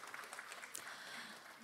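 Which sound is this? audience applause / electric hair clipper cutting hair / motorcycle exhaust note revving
audience applause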